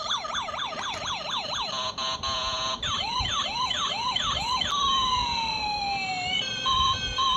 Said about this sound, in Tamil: அந்த சவுண்டு, அந்த லைட்லாம் அப்படியே ஒரிஜினலாக போலீஸ் கார் வர்ற மாதிரி இருக்குது